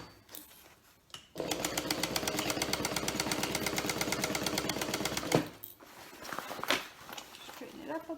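A sewing machine stitches a Lauren bag, running in a fast steady mechanical rhythm for about four seconds before stopping, with fabric handling noises before and after.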